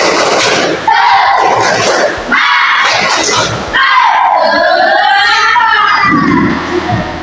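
A classroom of pupils repeats the tepuk semangat clapping chant, loud group voices rising and falling in rhythmic shouted phrases with claps and thuds between them, energetic and near.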